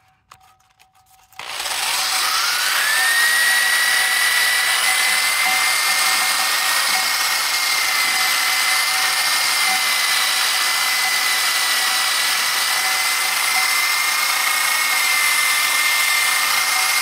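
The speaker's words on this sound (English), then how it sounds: "So I went and picked up a little brush for the drill. I'm going to try that out." A power drill spins a wire brush attachment against the metal of a 1960 GMC truck, starting after a brief quiet moment and then running as a loud, steady high whir with a slight pitch rise for the rest of the clip.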